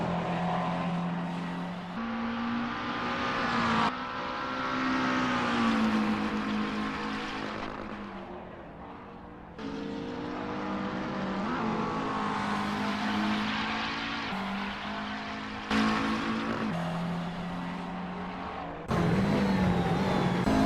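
McLaren 650 GT3 race car engines from an Assetto Corsa night race at Barcelona, loud and close, repeatedly revving up through gears with abrupt cuts at each shift, steady without any talk.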